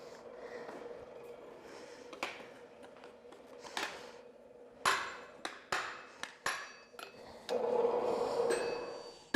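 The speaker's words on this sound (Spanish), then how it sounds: "Javier, Carlos, vamos a martillar." Sharp metallic hammer strikes on hot steel, forging an axe on an old anvil, ring out in irregular bursts, some in quick clusters, over a steady background hum, fairly close.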